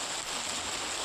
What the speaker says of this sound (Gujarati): કરા સાથે વરસાદ વરસી રહ્યો છે